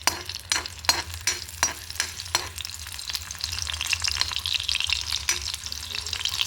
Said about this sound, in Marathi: अशा ठेचलेला लसूण आपण टाकलेला आहे आणि तो आता परतवून घ्यायचा आपल्याला थोडासा तांबूस होईपर्यंत